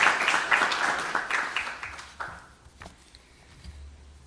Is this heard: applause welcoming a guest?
yes